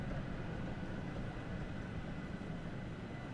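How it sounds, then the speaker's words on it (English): A Jubilee class steam locomotive in Train Sim World 3 arrives at a platform, making a dense, constant, loud rumbling roar with no pause and no voices. "there's a train coming in on the platform behind me."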